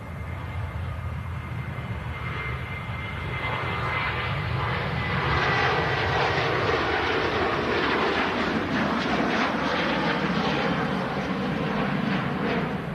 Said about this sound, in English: KLM departing back to Schiphol,